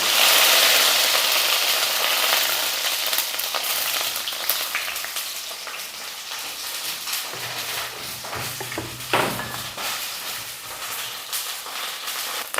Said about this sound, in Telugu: మనం ముందుగా కట్ చేసిన ఉల్లిపాయలు అలాగే కరివేపాకు కూడా ఈ ఆయిల్లోకి వేసుకుందాం